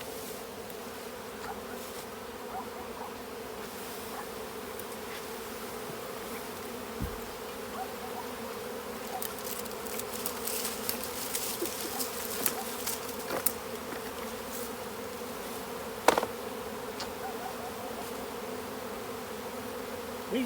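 Honey bees drone steadily at an open hive during an early spring inspection, a dense continuous buzz with individual bees passing close now and then.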